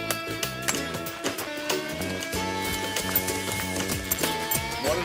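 Horse hooves clip-clop close by in Arizona, a brisk run of knocking steps over a busy, tonal background.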